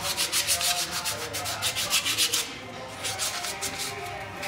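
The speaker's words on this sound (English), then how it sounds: "We have some emery cloth, which I'm going to use here just to get rid of some of that surface rust" Emery cloth scrubbed by hand over a rusty wheel hub spindle, a series of fast rhythmic rasping strokes, close and clear, pausing briefly before resuming.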